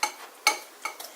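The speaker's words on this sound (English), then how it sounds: "I'm just going to mix that around with my pastry blender and just kind of incorporate it all." A pastry blender cuts through flour and sugar for pie crust in a bowl, giving four brief soft scraping strokes, close and quiet.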